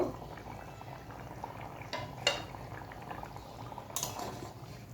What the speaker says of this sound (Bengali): আলু সেদ্ধ হয়ে গেছে